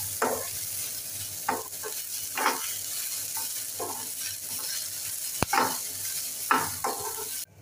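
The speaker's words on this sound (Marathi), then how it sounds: "आता इथे कांदा थोडासा फ्राय होत आलेला आहे, तेव्हा आपण आलं आणि लसूण घालू।" Onion frying in a pan with ginger and garlic added, a soft continuous sizzle broken by repeated scraping stirs of a spoon, close and fairly quiet.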